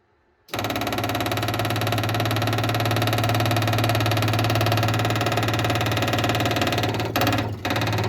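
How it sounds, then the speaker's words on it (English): Electric fuel pump on a 1970 International Scout with a 232 straight-six, switching on abruptly into a loud, steady mechanical buzz and hum that runs unbroken, then stutters briefly near the end as it is shut off. "We don't actually know if the fuel pump works."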